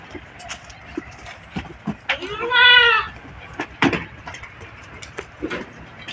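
Goats and kids bleat, jump and shuffle about, with one clear drawn-out bleat in the middle amid scattered hoof taps and rustling; a voice murmurs faintly in places.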